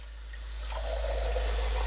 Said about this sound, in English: And then we're gonna fill up the mason jar